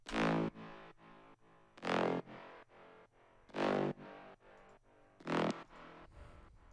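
A Serum synth step patch built from a saw wave with a kick wavetable, for a slap house drop: four loud, bright, distorted stabs roughly 1.7 seconds apart, each trailed by quieter rhythmic pulses, with no voices.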